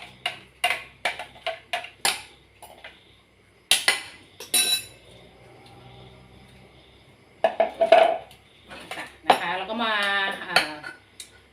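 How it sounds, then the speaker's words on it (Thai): Ground ingredients for a spicy Thai-Isan koi dish are scraped into a cooking pot, giving a string of sharp utensil clinks and taps, close and intermittent, with a voice briefly toward the end. "บดเสร็จแล้วก็มาใส่ในหม้อนะคะ"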